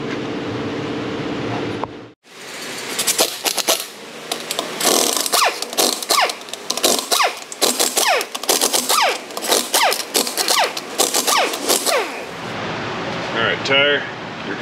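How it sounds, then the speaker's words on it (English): Wheels being pulled off a car with metal shavings found in a faulty wheel area, heard as a long run of loud, rapid clattering impact-wrench bursts and metallic scraping close by, ending in quieter clanks and rattles. "All right, wheels off time. Let's pull them off."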